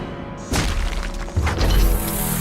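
An explosion in the LEGO Bionicle feature film bursts in as a loud crash with a booming low rumble, followed by a second heavy blast and lingering debris noise.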